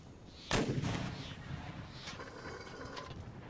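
A single heavy artillery boom from the Darthmod Ultimate Commander strategy game, sharp and loud, followed by a long rumbling tail that fades over a few seconds.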